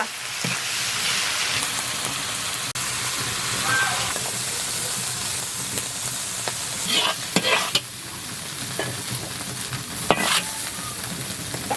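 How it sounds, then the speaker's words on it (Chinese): A wok of onion, red chili and garlic sprouts sizzles and hisses steadily while being stir-fried, with occasional scrapes and clanks of the spatula against the pan, close and continuous. "洋葱、红辣子。 配菜炒一炒出锅。"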